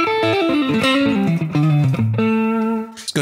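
An electric guitar plays a short melodic run through a Spark amp's simulated drive distortion on a Fender Twin tone, gritty and overdriven, notes ringing with sustained harmonics.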